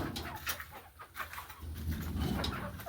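Hens in a coop at a house that had been flooded, clucking and calling in a busy, overlapping chorus, close by with steady low background noise.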